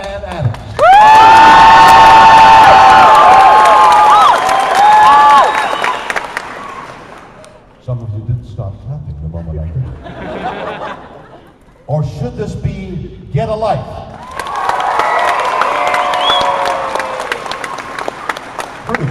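A convention crowd at a fan expo Q&A cheers, whoops and applauds in bursts to vote on a title, with loud shouting swells separated by quieter gaps and a voice speaking between them.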